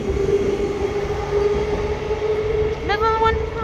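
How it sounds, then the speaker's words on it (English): A city train departs East Perth station, its steady electric motor whine and rumble building, then a short sharp horn blast near the end. "Another one departing. The city train departing."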